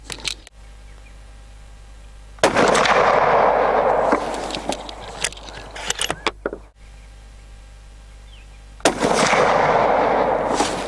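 An Anschutz 1780 .308 rifle fires Hornady steel match ammunition, two loud sharp cracks several seconds apart, each followed by a ringing, decaying echo and faint handling clatter, outdoors at close range.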